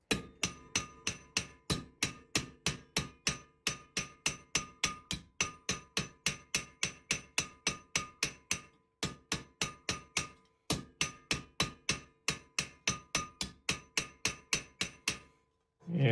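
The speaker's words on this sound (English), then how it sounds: "When I actually hit the metal, I'm almost not holding on to the hammer." A hammer strikes metal while an angle-raising technique shapes a metalsmithing piece: dozens of crisp, ringing blows in a steady, even rhythm, close and clear, broken by two brief pauses.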